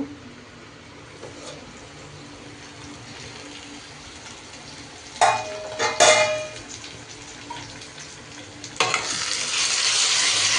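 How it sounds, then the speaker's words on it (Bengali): Fish heads fry in a pan with a steady sizzle and hiss, broken by a few clattering stirs and scrapes of a utensil partway through. "আর এদিকে মাথাগুলি ভাজতে বসিয়ে দিয়েছি"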